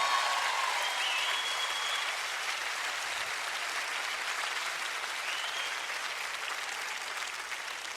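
Steady audience applause for a band at a concert, a dense even wash of clapping that holds for several seconds and slowly eases, with faint crowd sounds and a brief voice at the start.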